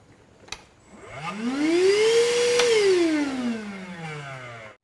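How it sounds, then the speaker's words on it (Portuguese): An Einhell battery-powered vacuum cleaner, used with an Einhell TC-SB 200 bench band saw, spins up with a rising whine, runs loud and steady at close range, then winds down as it switches off; no talking. "Eu vou usar o meu aspirador da Enriel, que nós já temos vídeo aqui no canal."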